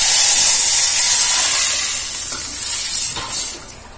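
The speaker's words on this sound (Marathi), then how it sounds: "अशी डाळ ओतली की फोडणी आपसूक वर येता." Boiled dal poured into a hot sizzling tempering with cumin, giving a loud steady hiss and sizzle that gradually eases off, with no voices.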